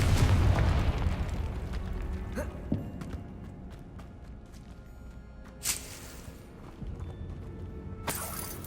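Confringo blasting spell in Hogwarts Legacy, a loud booming explosion at the start that rumbles and fades, followed by a couple of sharper later bursts of crackling impact.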